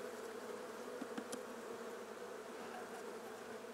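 Honeybees buzz steadily around an opened hive kept in a chicken coop, a dense continuous drone with faint clicks and brief rustles of frames being handled close by.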